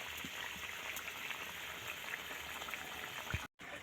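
A curry of mourala fish and figs bubbles and simmers in a pot with a steady, soft crackle of popping bubbles throughout, and a brief gap near the end.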